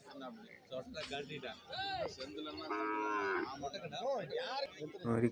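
Buffaloes at a cattle market moo one after another, deep drawn-out calls close by, some overlapping, in a busy outdoor setting.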